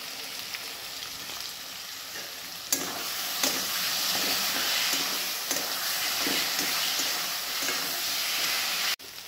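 Spice masala with sugar is stir-fried in a pan, giving a loud, steady sizzle with scraping and stirring strokes for about nine seconds and no voices, then it cuts off suddenly near the end.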